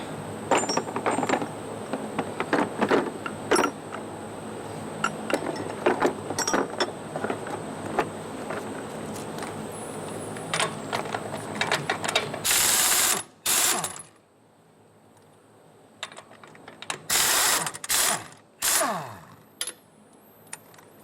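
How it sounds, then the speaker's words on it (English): A 1-inch drive torque multiplier ratchets against a stubborn lug nut on a tire, with rapid clicking bursts of pawl ticks, then a pause and a few final loud ratcheting runs. "And this torque multiplier is 1-inch drive."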